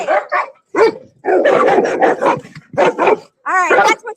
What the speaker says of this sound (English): Too much barking.